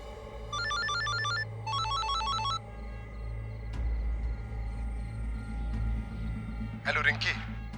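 A telephone rings in two trilling electronic bursts, close and clear, then goes quiet with a low background rumble before a voice briefly speaks near the end.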